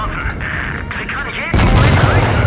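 A tank gun fires in the World of Tanks video game, a sudden loud boom that cuts in midway and rumbles on. Game noise and a voice sit underneath before the shot.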